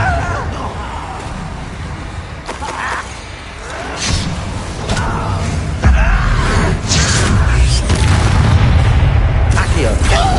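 Confringo fire spells in Hogwarts Legacy go off as a series of loud booms and bursts, with whooshing and rumbling throughout and a heavy sustained blast in the final seconds, amid battle noise.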